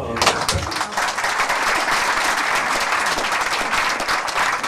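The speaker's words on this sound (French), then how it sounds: "je crois qu'on peut l'applaudir" An audience applauds a performer at an evening theatre gathering, with dense, lively clapping from a modest crowd that stays steady and close throughout.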